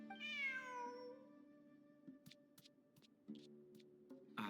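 A video game cat gives one clear, drawn-out meow near the start, followed by faint ticking and soft musical tones in a quiet scene with no talking.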